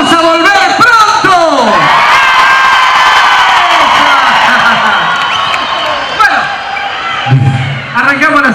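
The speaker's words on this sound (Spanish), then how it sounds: "tienen que gritar como un gol de Argentina en el Mundial, en la final" A television studio audience roars, shouts and whoops like fans cheering a World Cup final goal for Argentina, a loud sustained crowd swell that dips and rises again over about eight seconds.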